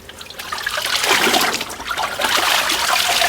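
A deer hide is rinsed in water, producing a loud, close sloshing and trickling that swells and continues steadily with splashes and no talking.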